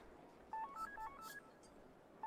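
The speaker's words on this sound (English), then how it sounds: "that's a pretty ringtone" A ringtone from the game Persona 5 Royal plays as a short sequence of bright beeping tones rising and stepping in pitch, fairly quiet and alone, with one more tone at the very end.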